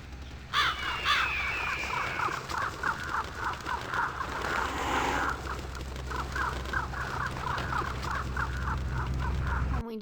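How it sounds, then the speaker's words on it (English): A flock of fake crows summoned by the animalism discipline in Vampire Bloodlines caws in a fast, steady run of harsh calls that continues for the whole stretch over low ambient game hum. "he was distracted by fake crows"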